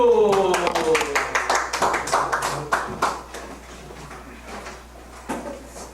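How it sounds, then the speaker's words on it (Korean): A small audience at a church Bible-study presentation claps in scattered, fairly close hand claps that thin out after about three seconds, with a faint voice underneath. "박수"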